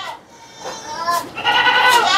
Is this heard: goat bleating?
yes